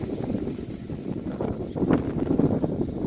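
Wind blows outdoors around solar PV tracker arrays, a steady low rumbling buffet against the microphone that swells slightly toward the end, with no voices.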